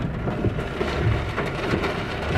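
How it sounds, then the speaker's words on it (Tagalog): Heavy rain on a rainy night pours in a dense, steady roar with a low rumbling undertone, loud and unbroken throughout, with no voices. "Grabe lakas ng ulan"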